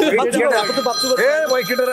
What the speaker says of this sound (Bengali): আবার ফোন দিচ্ছে